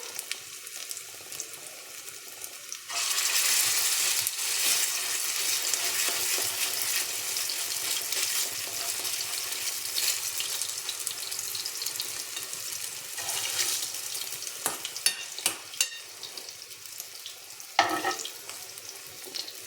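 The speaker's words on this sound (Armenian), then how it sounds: "Իսկ տապակացնում ենք, որ լավ տապակվի" Meat cutlets sizzling in a pan, a steady frying hiss that swells after a few seconds and continues with occasional clicks and scrapes, no talking.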